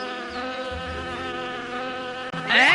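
A cartoon fly buzzes steadily and close for nearly three seconds, a continuous droning whine that ends in a rising burst of noise.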